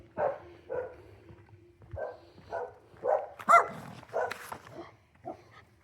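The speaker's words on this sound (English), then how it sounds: "They do have dogs, so there will be a little bit of barking." Several dogs bark in short bursts, a few sharp yips and whimpers mixed in, close by with brief pauses between barks.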